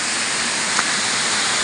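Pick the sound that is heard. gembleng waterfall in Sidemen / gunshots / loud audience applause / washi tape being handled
gembleng waterfall in Sidemen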